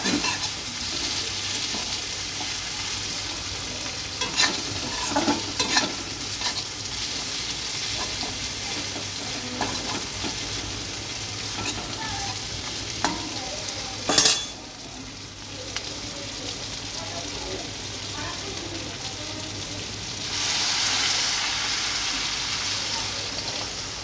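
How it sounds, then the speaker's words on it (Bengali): Fish curry masala with ground cumin and coriander paste sizzling and frying in a pan while being stirred, a steady close crackle with scraping stir strokes, briefly louder near the end. "ভালো করে কষিয়ে নেব ভালো করে কষানো হয়ে যাবে"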